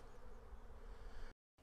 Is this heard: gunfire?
no